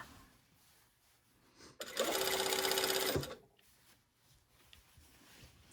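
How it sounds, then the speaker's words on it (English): A sewing machine bastes a lining to the top edge of a skirt, a brief run of about a second of fast, close mechanical stitching whir between quieter handling sounds. "go all the way around the top edge of the skirt, basting the lining in place"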